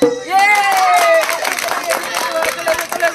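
An audience claps during a drum-beating prize game, a quick burst of scattered hand claps close by, mixed with crowd chatter and voices.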